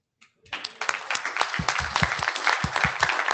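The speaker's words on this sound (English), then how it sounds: "You can applaud now if you want." A conference crowd breaks into steady applause after a lightning talk, many hands clapping together at close range, sustained and fairly loud throughout.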